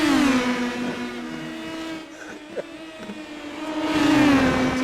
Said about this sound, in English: This is making this a whole lot more fun listening to these two cars.